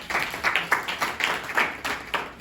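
A conference audience claps in a short burst, sharp overlapping hand claps with a few rising peaks, moderately loud and fairly close, with no one talking over it.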